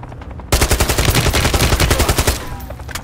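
Automatic gunfire in Call of Duty Modern Warfare 3 breaks out suddenly after a brief quiet moment, a loud, close, rapid rattle of shots lasting about two seconds before tailing off into an echoing decay.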